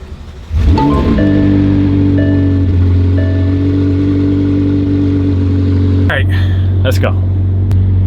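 A car's engine starts up and settles into a loud, steady idle rumble close by, with a few clicks and brief sharper noises near the end.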